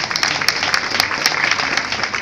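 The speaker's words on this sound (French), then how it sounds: "Je voudrais qu'on applaudisse lui et son équipe pour les encourager." A crowd at a municipal holiday-activities ceremony in Attécoubé claps for the socio-cultural services team, dense continuous applause close by, with a faint voice underneath.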